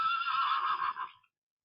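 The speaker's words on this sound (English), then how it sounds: "Horse. Yes, you are correct. A horse." A single clear horse neigh, loud and close, runs for just over a second with a shaky, quavering pitch, then stops dead into silence, and there is no talking.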